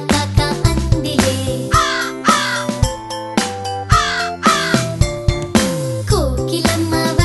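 Repeated crow caws in an animated Telugu nursery rhyme for children, set against bouncy, tuneful backing music. The caws come in a steady rhythm at a close, loud level.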